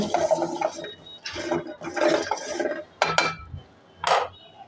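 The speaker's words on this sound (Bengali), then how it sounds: "কড়াই খালি থাকলে কড়াইয়ের ভিতরে দিলাম" Jackfruit seeds tipped into an empty wok, a series of close hard clattering bursts of seeds hitting and rattling against the metal, separated by short pauses.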